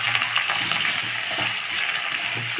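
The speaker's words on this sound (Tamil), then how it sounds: "நல்லா 1/2 கிலோ கத்திரிக்காயை நல்லா வதக்கி அப்படியே வேக வைக்கணும்." Half a kilo of brinjal (eggplant) sautéing in a pan for a Tamil podi curry, giving a steady close sizzle and fry with soft stirring scrapes throughout, no talk.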